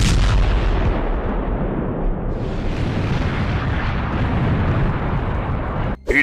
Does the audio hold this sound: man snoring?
no